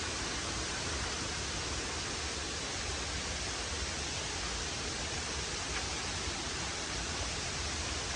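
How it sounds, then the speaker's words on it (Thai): Tham Soda waterfall at Wat Tham Soda in Nong Phok district, swollen after overnight rain, gives a constant dense roar of falling water, loud, close and unbroken, with no voices. "สามารถมานั่งเล่นมาเล่นน้ำตกได้ด้ครับ"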